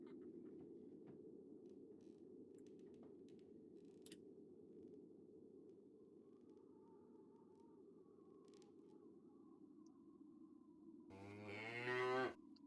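A cow moos in a barn within a video game, a long sustained lowing call running from the middle of the clip to near the end, closing with a louder bellow over a steady low background hum.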